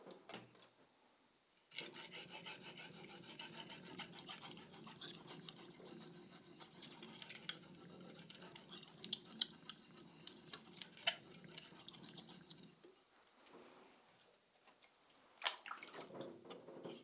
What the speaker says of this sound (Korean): 그럼 2000번 숫돌에서 연마를 해볼게요.